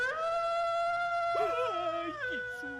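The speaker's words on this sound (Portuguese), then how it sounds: "Pelo barulho, esse foi um cachorro uivando para a lua." Long, wavering dog howls, drawn-out tones that slide up and down, heard close and fairly loud against a steady background for a children's folklore episode, with no speech.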